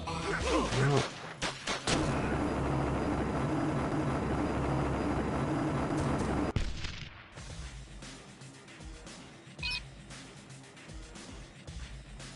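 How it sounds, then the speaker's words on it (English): In the video game Marvel: Ultimate Alliance, a helicopter strafes a deck, making a loud, dense roar of rotor and gunfire that cuts off abruptly into quieter rumbling with scattered impacts. "a helicopter keeps strafing the deck"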